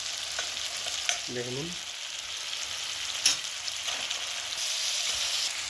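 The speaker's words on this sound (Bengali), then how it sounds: "তো টমেটো কষার সঙ্গে মশলাগুলো কষিয়ে নেব আমি, জিরে আর আদাটাকে।" Tomato frying in a pan with cumin and ginger paste for a fish curry, a steady broadband sizzle with a few scrapes of stirring; a voice briefly speaks over it.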